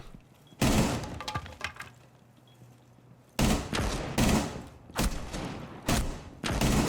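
Rapid gunfire from a competitive video game shooter, with several loud bursts of shots separated by short pauses, close and sharp against a quiet background.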